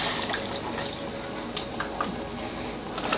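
Colour film developer Part A being poured into a developing tank, a soft, steady liquid trickle with a few faint clicks and drips, quiet and close.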